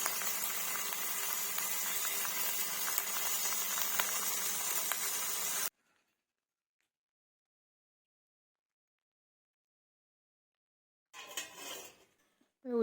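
Small fish frying in a pan of hot oil give a dense, steady crackling sizzle for several seconds. The sound then cuts to silence, followed by a short burst of clattering.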